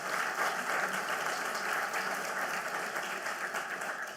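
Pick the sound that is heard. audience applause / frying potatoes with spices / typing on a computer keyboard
audience applause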